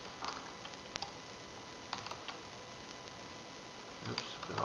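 Light, scattered key taps on a computer keyboard, faint and irregular, with a few sharper clicks against a steady background hiss.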